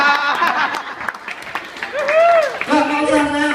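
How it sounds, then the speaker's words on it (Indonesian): An audience at a stand-up comedy show breaks into scattered applause and laughter, mixed with loud talking voices throughout. "Gak ada yang tepuk tangan ya?"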